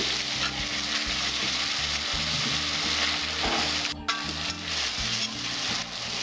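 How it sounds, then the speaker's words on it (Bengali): Masala with chopped tomato fries over a low flame for a pomfret fish curry, a steady close sizzle with stirring scrapes and a brief clink partway through, with no voices. "কম আঁচে আমি মশলাটা কষিয়ে নেব। এইবার দেবো আমি টমেটো কুচি"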